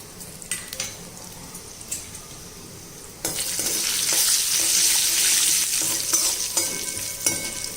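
Fennel seeds, kalonji, black cumin and mustard seeds drop into hot oil for a sweet tomato chutney, a few light clinks giving way to loud, steady sizzling and crackling from the pan.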